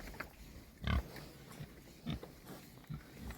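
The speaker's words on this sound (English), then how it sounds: "They are big pigs" Large pigs in a hillside paddock with wind turbines grunt in a few short, low snorts, fairly faint against a steady outdoor wind rush.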